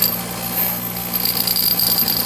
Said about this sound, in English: stick it on, turn on your grinder, and it will spin while you're grinding it